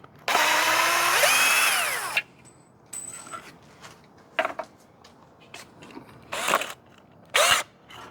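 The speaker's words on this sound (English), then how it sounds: "we're going to use this drill to start removing it from the wall." SCANS 20V cordless electric drill whirring loudly for about two seconds as it winds up and slows while removing a plastic sensor from a wall, followed by several short bursts and scraping knocks.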